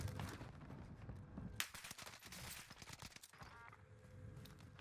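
A flurry of gunshots in Call of Duty Warzone on the Fortune's Keep map rings out, a loud crack followed by a ragged, uneven string of shots that stays fairly faint overall.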